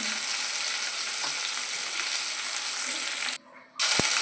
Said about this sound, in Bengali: আমি ফুলকপিটা বেশ লাল লাল করে ভেজে নেব